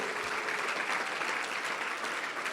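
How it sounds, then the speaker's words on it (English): An audience at a clean energy anniversary keynote applauds, a dense, even patter of many hands clapping at a steady level throughout the short stretch, with no voices rising above it. "give yourself a round of applause"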